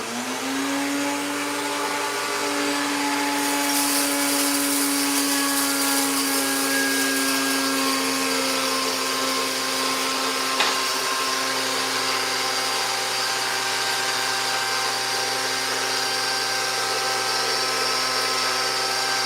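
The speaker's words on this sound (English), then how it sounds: "I do the blend, chop, grind." A kitchen blender runs at high speed chopping and grinding food, a loud, steady motor whine that shifts pitch slightly as the blades work through the contents, with no talking.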